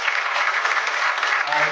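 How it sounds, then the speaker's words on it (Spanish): An audience at a municipal book presentation in Pichilemu, Chile, applauds in a dense, continuous burst of clapping that stays loud and even throughout, with no talking over it. "Por favor, un fuerte aplauso."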